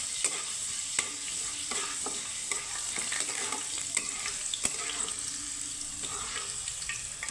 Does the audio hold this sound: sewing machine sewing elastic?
no